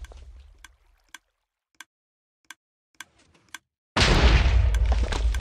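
Minecraft TNT cannons at a nether tree farm fire a series of sharp, isolated booms at irregular intervals, then a louder sustained blast-like roar takes over near the end.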